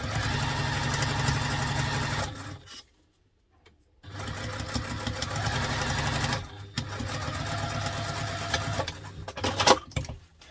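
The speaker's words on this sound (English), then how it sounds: "Right, so now I'm going to do stitch that on." Sewing machine running in long steady bursts while stitching binding onto a laptop briefcase, with a brief pause near the middle before the motor resumes; close and loud, with no talk.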